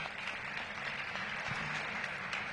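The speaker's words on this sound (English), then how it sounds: "So let's give them a big round of applause." Distant, fairly quiet audience applause at a city budget engagement forum, a steady wash of clapping throughout with no voices over it.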